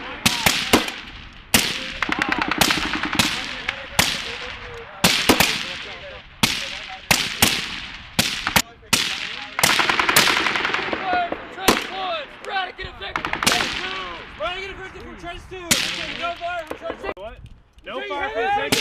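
M60 machine guns fire in repeated bursts during a U.S. Marine Corps field exercise at Camp Lejeune, North Carolina; loud sharp volleys with brief gaps, while Marines talk and shout nearby between and over the shots.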